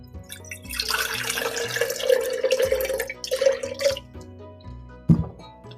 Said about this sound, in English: you're going to fill it about a third of the way full with warm water.